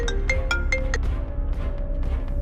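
An incoming phone call rings with a bright melodic ringtone of quick repeated tones, close and clear, followed by a sustained lower tone, in a Tamil TV drama scene.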